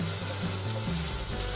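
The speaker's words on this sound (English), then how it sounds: "Put some oil in your frying pan, medium heat again. Add the shallots and the garlic." Shallots and garlic fry in oil in a pan over medium heat, giving a steady, loud, close sizzle that holds through the whole stretch with faint stirring underneath and no voices.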